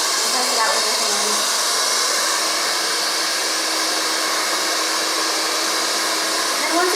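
A hair dryer runs on a medium heat setting while drying hair in a barbershop, giving a steady, loud, continuous airy whoosh for the whole stretch with no break.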